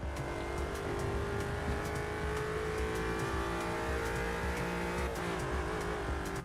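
Race car engine in the sim racing game Automobilista 2, revving hard and continuously with steady gear changes, loud and close with a constant harmonic drone and brief pitch drops at each shift.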